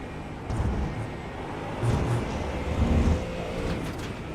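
Ford Mustang race car at VIR in USRA competition, engine droning and surging under power out of a heavy braking zone, a steady rumbling roar with swells, heard from onboard.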